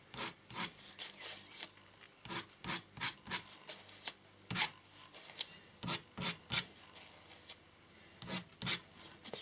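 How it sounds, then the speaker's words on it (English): A curved-edged tool scrapes a hide in the direction of the hair, giving repeated rhythmic rasping strokes, close and fairly quiet, about two per second with short gaps between. "then you can use the curved edge there and scrape out"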